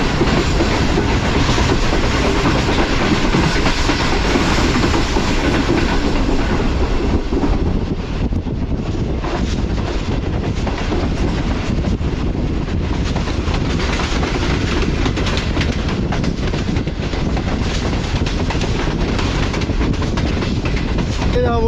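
The Shalimar Express runs fast along the track, making a loud, continuous roar with rapid clickety-clack of wheels over rail joints and heavy wind buffeting. It stays close and steady the whole time.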